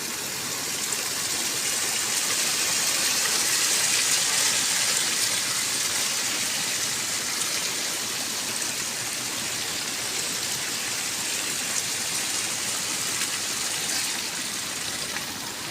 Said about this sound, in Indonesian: Airnya ke sawah semua ini.